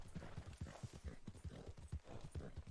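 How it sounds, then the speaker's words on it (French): A horse runs in a video game, its hooves beating a quick, steady clip-clop rhythm of soft repeated thuds, faint and even throughout. "le cheval, il devrait pouvoir courir, là"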